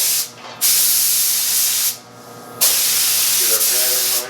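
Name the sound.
spray gun with hose spraying first coat on plant stand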